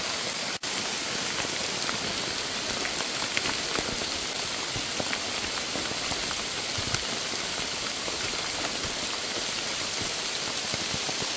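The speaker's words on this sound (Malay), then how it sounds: "Hujan yang turun menjadikan trail pendakian licin." Steady rain falling on a forest hiking trail in the mountains, a dense hiss of drops pattering on leaves and ground, constant and enveloping with no voices.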